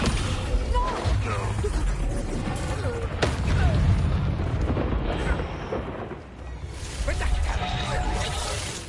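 Descendo spell cast in the Hogwarts Legacy video game, a heavy rumbling slam with booming low impacts and crackling debris, loud and sustained over several seconds with a brief dip near the end.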